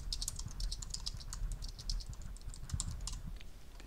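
Rapid, light keystrokes patter on a computer keyboard as a comment is typed, a close, continuous run of soft clicks with no voices.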